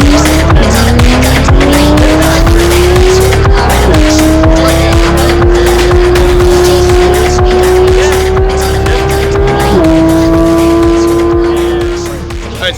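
A Ferrari, Lamborghini or Porsche supercar is driven hard. The engine roars loudly and climbs steadily through the gears with distinct shift breaks, and a continuous tire squeal runs under the engine note throughout before the sound tapers off at the end.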